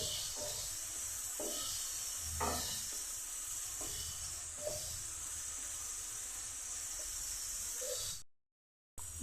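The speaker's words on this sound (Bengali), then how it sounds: "দিয়ে দিচ্ছি কিছুটা নুন, দিয়ে দিচ্ছি হলুদ গুঁড়ো, দিয়ে আমি মাছগুলি ভেজে নেব।" Prawns seasoned with salt and turmeric fry in a pan with a steady, close sizzle and hiss, broken by a few soft stirring knocks, then a brief drop to silence near the end.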